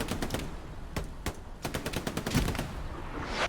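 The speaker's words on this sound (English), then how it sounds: "Smoke and artillery fire supporting the push. As well as machine guns." Machine gun fire in a Hell Let Loose esports match: rapid bursts of sharp shots, some spaced and some tightly clustered, loud and close over a backdrop of battle noise.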